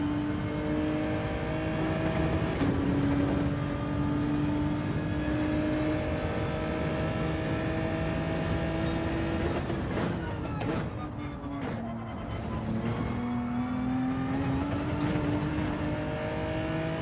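A McLaren race car engine in Gran Turismo 7 drones steadily at high revs, its pitch stepping up and down through gear changes, with a brief dip and rev in the middle.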